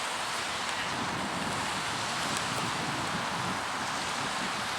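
Lakeside at Lake Tahoe, wind rushes past in a steady broadband roar, with the wash of small waves blended into it, constant and fairly loud.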